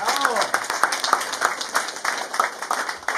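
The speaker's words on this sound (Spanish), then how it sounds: "quien pedimos un fuerte aplauso también para ella." Applause at a baptism party, a crowd clapping in quick, fairly even bursts throughout, fairly close and loud, with a voice talking over part of it.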